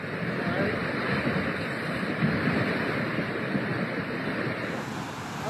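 The Gir, a mountain river in the Hautes-Alpes swollen by torrential rain, roars past as a raging torrent, a dense, steady broadband rush of churning water that holds loud and constant throughout, with no voices.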